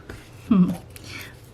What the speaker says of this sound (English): My cat decided to join me today as I draw.